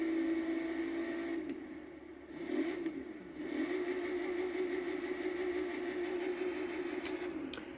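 A modified car with an aftermarket exhaust idles in a Forza Horizon 3 race game, a steady low engine burble holding at moderate volume with a brief dip partway through, no voices over it.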